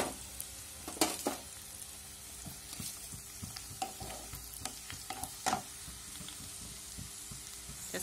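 Onions frying in a pan for a potato and jackfruit curry, a steady sizzle broken by sharp scraping stirs near the start and in the middle, close and moderately loud with no talking.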